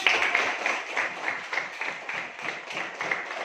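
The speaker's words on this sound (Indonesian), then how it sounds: "Oke, tepuk tangan bersama." A classroom full of students clapping together, a soft, fairly distant burst of applause lasting a few seconds.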